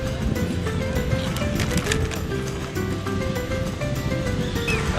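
Ocean waves wash onto a beach with a steady, broad roar of surf, with some wind noise buffeting the microphone throughout.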